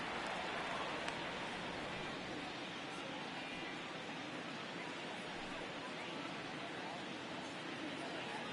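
Heavy rain pours over a baseball field in MLB The Show 19, a Rangers versus Tigers game, as a steady, dense broadband hiss that fills the whole stretch without letup.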